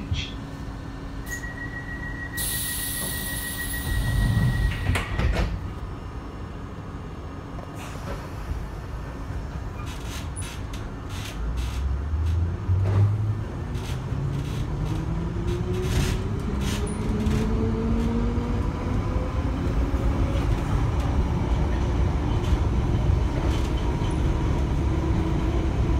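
A London Underground Piccadilly line 1973 stock train rumbles along with a steady low roar, rising in pitch as it picks up speed, with rattling wheels and a brief high tone near the start.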